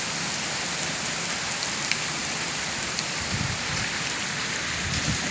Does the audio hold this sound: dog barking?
no